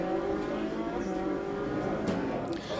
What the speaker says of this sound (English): We look back right now from Alex Martin's 458 as he revs it and goes through that sequential gearbox